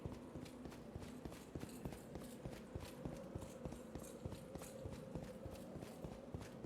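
Horse hooves clip-clop in a steady walking rhythm in a video game, each step crisp and even, moderately quiet and unaccompanied by talk.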